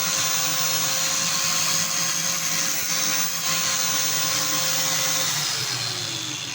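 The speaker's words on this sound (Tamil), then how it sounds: "இப்போ ஆன் பண்ணுறோம். ஆன் பண்ணி கட் பண்ணி பார்க்கலாம். பாருங்கள் கட் பண்ணுறேன்." An angle grinder mounted on a stand cuts through metal with a loud, continuous high whine and a steady grinding hiss that starts to wind down near the end.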